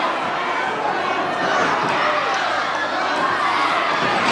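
An arena crowd at a UK wrestling bout cheers and chatters, a dense, loud wash of voices and shouts that swells slightly midway and carries on without a break.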